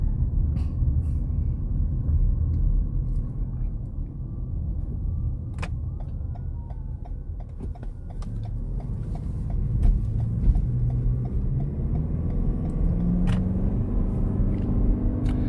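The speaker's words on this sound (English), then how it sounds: "This motor sounds better than I remember it sounding in other Toyota products." The 2.5-liter engine of a 2023 Toyota RAV4 Hybrid Woodland Edition runs while driving, a steady low rumble and road noise inside the cabin with occasional light clicks.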